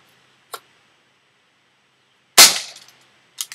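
A pellet gun fires into a block of ballistic gel set on a table, giving one loud, sharp crack with a brief ringing tail, framed by a couple of faint clicks before and after and no voices.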